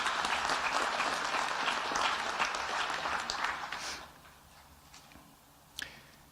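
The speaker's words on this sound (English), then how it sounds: "Please give them a round of applause for all the work that they've done in helping this happen." Audience applauding at the Cantastota Central School Class of 2022 graduation ceremony, a dense, steady clatter of clapping that tapers off after about four seconds, followed by a single sharp knock near the end.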